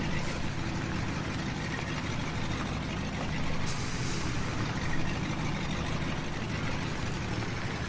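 A truck in Farming Simulator 17, its heavy engine idling and rumbling steadily with a short sharp hiss of released air brakes partway through, no speech over it.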